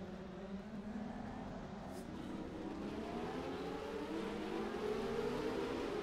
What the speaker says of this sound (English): Always have loved the sound of these cars.